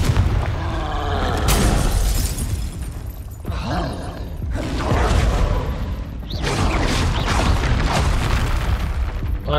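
A Confringo fire spell explodes in a Harry Potter video game, a loud booming blast with crashing, shattering debris and whooshes, several heavy bursts rolling on one after another with no talk over them.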